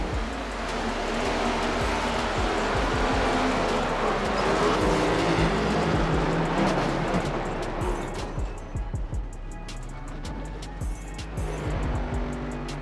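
NASCAR race cars lap Darlington in the iRacing sim, a loud continuous engine roar from a close in-car perspective with revs rising and falling and occasional sharp clicks, and no talk over it.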